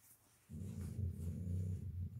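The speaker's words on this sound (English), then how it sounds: "That's my dog groaning." A greyhound gives a low, drawn-out groaning growl close by, starting after a brief quiet and holding steady for nearly two seconds.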